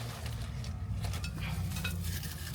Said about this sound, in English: there go my peppers going in